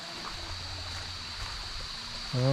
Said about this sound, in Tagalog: may narinig ako agos ng tubig, kaya bababa tayo dito.